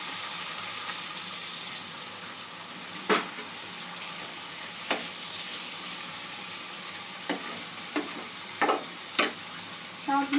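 Ground spice masala with garlic paste sautés in a pan with a splash of water, a soft steady sizzle broken by several sharp spatula knocks and scrapes against the pan.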